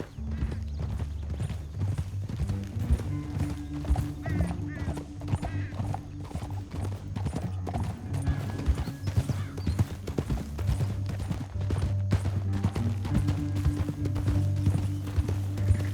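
Steady hooves clip-clop along over a dense bed of music in the video game Red Dead Redemption 2, with an occasional whinny and faint voices mixed in; continuous and fairly loud throughout.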